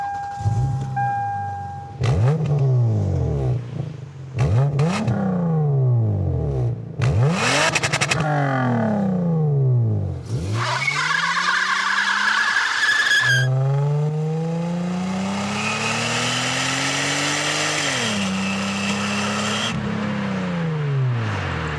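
Third-generation Toyota Camry on coilover suspension with an aftermarket exhaust, accelerating repeatedly through gears with rising revs and shifts, loud and close, then a longer sustained pull.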